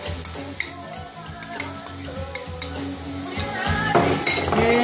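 Fresh ginger and jalapeno sizzle loudly in a pan while a utensil stirs them with repeated light scrapes and clinks, the frying swelling louder toward the end.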